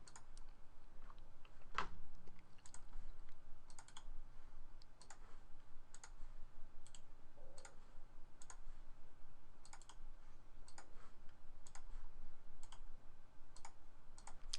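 A computer keyboard and mouse clicked during pasting of login details, heard as faint, close, scattered taps and clicks in an irregular rhythm over a low steady room hum, with no voices.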